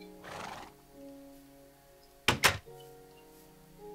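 Horses in the Minecraft video game neigh in a quiet whinny near the start, followed by a sharp double thunk and faint background tones.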